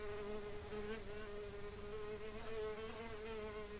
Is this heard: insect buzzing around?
yes